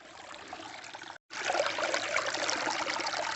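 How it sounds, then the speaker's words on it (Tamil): Water of a forest stream trickles and burbles steadily nearby at the foot of the Western Ghats, a soft continuous flow with a brief silent break partway through. "தண்ணி சத்தம் அப்படி கேட்குறதுக்கு இனிமையாக இருக்குது."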